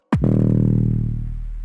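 A single deep, buzzy drum and bass synth bass note made in Serum hits sharply and holds, gritty and distorted, slowly fading.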